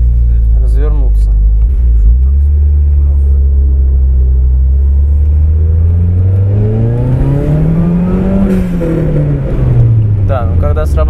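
A homemade turbocharged pocket-rocket supercar engine rumbles loudly nearby, its pitch rising as it accelerates and then falling off, while someone talks over the engine noise.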